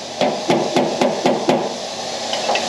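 Hammer tapping a replacement steel body panel on a scrap yard Peugeot P4 to level it, six or seven sharp metallic strikes in a steady rhythm, close and fairly loud over faint workshop background.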